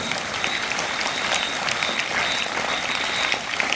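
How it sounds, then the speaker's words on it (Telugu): An audience applauds continuously at a news event honouring a family, a dense, even clapping that stays loud and close throughout. "మరి ఈ కుటుంబాన్ని మనం గట్టిగా చప్పట్లు కొట్టి అభినందనలు తెలియజేయాలి"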